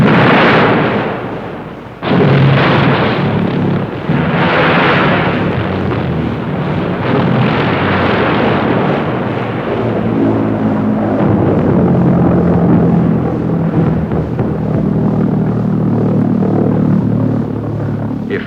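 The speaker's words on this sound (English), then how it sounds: "Vergeltungswaffe, better known at the receiving end as V1. The flying bomb," A German V1 flying bomb of the Second World War, heard as a loud, continuous rumbling drone with heavy bursts early on, a sudden surge about two seconds in, then a sustained roar without voices.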